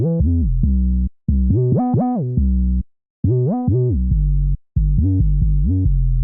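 An 808 bass pattern in a drill beat with the envelope hold turned all the way up plays loud and alone: sustained deep notes with gliding pitch slides in short phrases, separated by brief silences.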